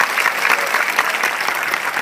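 A crowd at a Hindu religious assembly in Kodumuru applauds loudly, steady dense clapping from many hands sustained evenly for a couple of seconds with no voices standing out.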